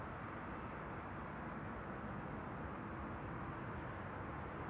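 SAS Airbus A320neo jet, bound for Copenhagen, taking off from runway 24 at Amsterdam Schiphol: a steady broadband engine roar, constant and fairly distant, with no voices over it.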